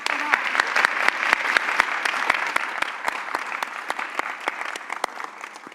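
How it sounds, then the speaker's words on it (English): An audience at a panel discussion on women's economic power gives a steady round of applause, dense and fairly close, with individual sharp claps standing out and the clapping thinning slightly toward the end. "Let's clap for that."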